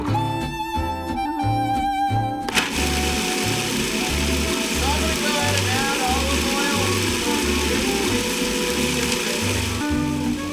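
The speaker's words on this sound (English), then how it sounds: "Now we just throw everything into the food processor, hit it with a little bit of olive oil" Food processor blending pesto ingredients with olive oil, a mechanical whirring motor running in regular pulsing bursts with a rattling, grinding texture, after a short stretch of music at the start.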